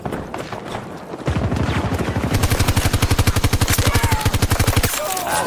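Shotgun fire in Battlefield 6: after a quieter opening, a rapid, loud string of evenly spaced blasts pounds steadily for several seconds, then stops abruptly, with faint talk around it.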